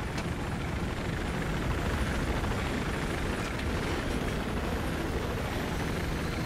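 A helicopter in the Battlefield 4 video game roars steadily and loudly throughout, a dense, continuous rotor and engine wash with no pauses or talk.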